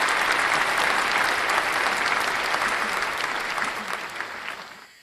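Sustained applause from a gathered audience, steady and fairly loud for several seconds, then tapering off quickly at the end.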